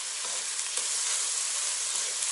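Onions fry in a kazan with a steady, close hiss and crackle of hot oil, constant and unbroken, without any talking.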